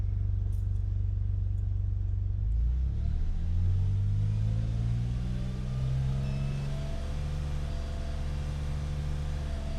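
A 2004 Porsche 911 Turbo with a no-full-boost fault idles, then climbs to a steady 2,500 RPM hold, its low engine drone rising in pitch and settling as a continuous hum.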